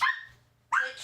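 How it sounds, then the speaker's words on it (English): A dog barks twice, close and loud, with a short silent gap between the two sharp bursts. "Dog decided to bark at the right time apparently."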